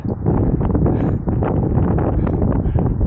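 Steady, loud wind buffeting the microphone on the Schwärzenkamm via ferrata near Obergurgl, Austria, a continuous broadband roar with gusty fluctuations and no speech.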